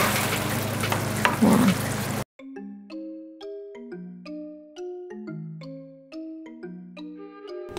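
A whole hilsa fish roasts in thick onion gravy and is carefully turned. A close, crackling sizzle with a few stirring bumps lasts about two seconds, then cuts off abruptly into gentle music.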